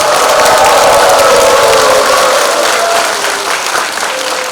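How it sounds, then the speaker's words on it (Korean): Loud, dense crowd applause mixed with cheering and whoops at a Democratic Party presidential election rally in Jungnang-gu, a continuous roar that holds steady and eases slightly toward the end. "여러분의 큰 함성과 박수로 시작하겠습니다"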